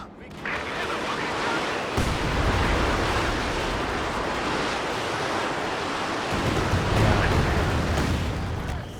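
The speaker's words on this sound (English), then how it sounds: "He's brought in a coordinated barrage as well." A coordinated mortar barrage in Company of Heroes 2 produces a dense, continuous roar of rumbling impacts and blasts for several seconds. Heavier low thumps hit around the two-second mark and again near the end.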